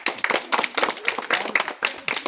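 Children clap their hands in a quick, uneven burst of claps, fairly close and moderately loud, with faint voices under the clapping.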